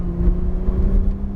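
A Porsche 911 Turbo S on the Michelin circuit sends out a loud, close, steady engine drone as the car pulls forward under power, with no talk over it.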